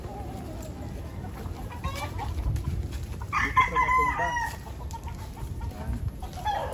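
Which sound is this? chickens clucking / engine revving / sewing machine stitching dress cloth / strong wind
chickens clucking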